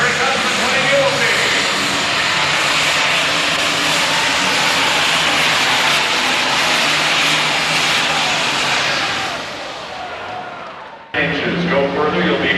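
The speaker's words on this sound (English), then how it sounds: "Chargers start to spin. Higher and higher RPMs are up." A Super Stock pulling tractor at a 1993 NTPA Grand National tractor pull in Canfield, Ohio, its turbocharged engine screaming at high RPM in a loud sustained roar that drops off near the end before a brief renewed burst.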